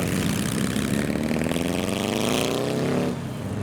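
Engines of roofless classic cars at a winter car show start up and pull away, a mid-pitched drone climbing steadily in pitch before dropping off abruptly near the end, with no talking.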